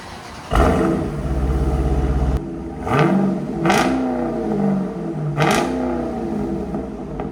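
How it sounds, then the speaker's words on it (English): A 2024 Dodge Durango SRT with a 6.4L HEMI V8 and Borla ATAK cat-back exhaust fires up with a loud bark, settles into a rumbling idle, then gives three sharp revs that swell and fall back, heard close. "Borla ATAK catback on a 2024 Durango."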